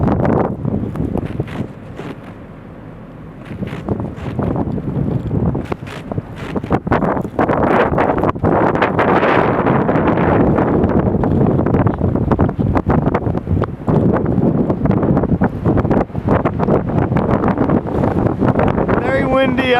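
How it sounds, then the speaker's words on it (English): Strong wind buffets the microphone during a winter blizzard on a town's main street, loud roaring gusts that build after a quieter start and keep surging, with a person talking now and then. "Windy out right now."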